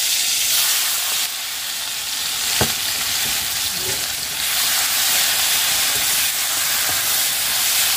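Dried red chillies and chopped onion fry in hot oil for a fish curry, giving a loud, steady sizzle with occasional stirring scrapes close up and no talking.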